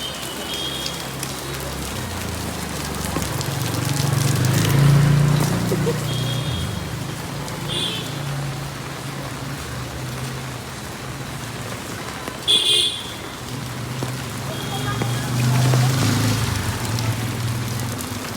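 Heavy rain pours down in a market street in Berhampur, a dense continuous hiss with low rumbling underneath and occasional faint beeps.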